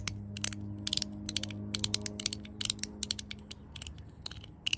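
Rapid, irregular mechanical clicking with light ratchet-like ticks, close and fairly quiet, with no voices.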